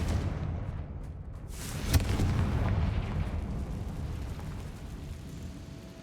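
A Confringo fire spell explodes in Hogwarts Legacy: a single sharp blast slightly before the midpoint, then a rumbling roar that slowly fades, with no talking.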